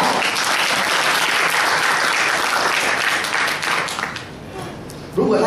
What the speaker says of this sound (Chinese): 让我拍手给他听听好不好？